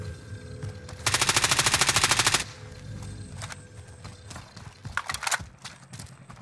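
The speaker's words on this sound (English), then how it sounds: "someone's shooting from big house" Gunfire in a multiplayer shooter: scattered single shots and then a fast, loud automatic burst lasting over a second, followed by more sporadic shots and clatter at varying distances.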